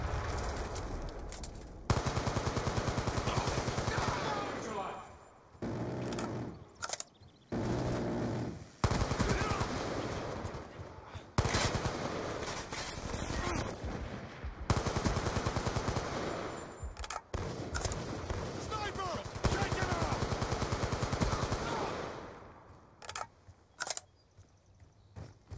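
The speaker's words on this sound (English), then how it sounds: "advised, hostile death machine spinning up." The Death Machine minigun in Call of Duty Black Ops 2 fires in long rapid bursts. The loud rattling streams are broken by brief pauses and clicks across the stretch.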